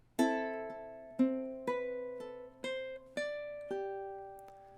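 A ukulele plays a measure of a love song with stacked fingering: six plucked notes in a steady, unhurried rhythm, each ringing and decaying, close and clear with no talking.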